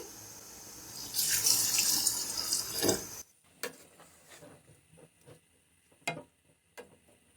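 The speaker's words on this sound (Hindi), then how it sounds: "अब हम इसमें डालेंगे पानी। 1 गिलास के करीब हम इसमें पानी ऐड करेंगे।" About a glass of water pours steadily into a pot of chicken biryani for about three seconds, followed by quiet clinks and taps of utensils against metal.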